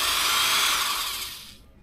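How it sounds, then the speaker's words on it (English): A cheap cordless drill spins a polishing pad against a car door, giving a loud, rough whirring rub that holds steady, then fades and cuts off near the end. "I'm just using a cheap cordless drill."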